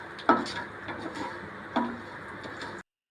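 A spoon clinks against a pan as cashews fry for katu pongal, with two sharp knocks over a quiet, faint sizzle.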